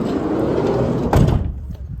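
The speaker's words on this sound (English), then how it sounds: "Here we go, door shuts again" A door on a 2018 Ford Transit 350 L2 H2 van shuts with a single close, solid thud midway through, over a steady background rumble that quietens afterward.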